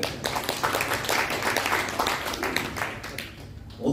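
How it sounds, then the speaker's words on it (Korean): Applause from an audience at a pastoral ministry lecture, a moderately loud round of clapping with distinct individual claps audible throughout, steady for several seconds. "자, 박수 한번 주세요."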